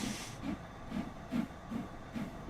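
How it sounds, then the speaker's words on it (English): A steam locomotive on the Horseshoe Curve in Train Sim World 2 gives about six rhythmic bursts of steam hiss in quick, even succession, moderately loud and with no talking. "You can hear the safety valves going off"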